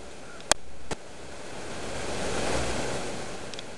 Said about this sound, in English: Pretty much the creek is like a river